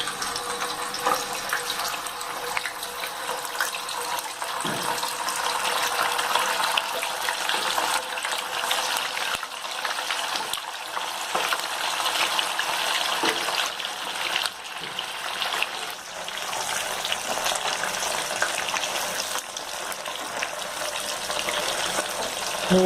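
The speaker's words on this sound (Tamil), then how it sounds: "கட் பண்ணி வச்சுருக்க பன்னீர் பீசஸை இதை நல்லா டீப் ஃப்ரை பண்ணி எடுத்துக்கலாம்." Cut paneer pieces deep fry in hot oil, a dense, continuous bubbling hiss that holds steady and fairly loud throughout with no voices.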